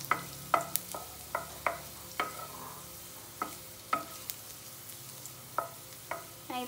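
Garlic frying in a pan until golden brown, a soft background sizzle punctuated by a dozen sharp spatula taps and scrapes at an uneven rhythm, close and clear without speech.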